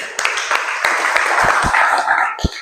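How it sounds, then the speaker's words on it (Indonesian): A crowd claps steadily for a few seconds, a dense patter of applause with a few sharper claps standing out. "Oke, tepuk tangan dulu untuk yuk."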